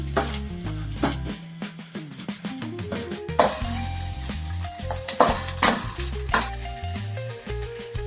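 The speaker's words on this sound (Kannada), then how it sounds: "ಇವಾಗ ನಾನು ಸ್ವಲ್ಪ ಟೊಮೆಟೊ ಹಾಕ್ಕೊಂಡು ಫ್ರೈ ಮಾಡ್ಕೊತಾ ಇದ್ದೀನಿ." Onion and tomato sizzle in a hot pan beneath upbeat background music, with occasional stirring and clinks.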